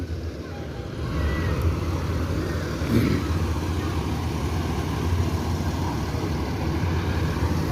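An NPM intercity bus rolls into a busy AKAP bus terminal, its engine a steady low rumble that rises after the first second and stays level, with crowd bustle faint in the background.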